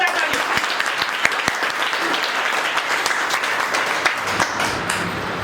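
Loud, steady applause from an audience at a business leaders' meeting, dense clapping filling the whole stretch with a few sharper individual claps standing out.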